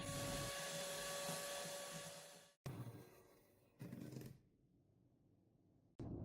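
An electric hand mixer whirs steadily as it beats eggs with sugar for a sponge cake, then cuts off abruptly, starts again for a brief burst and stops, followed by a short click.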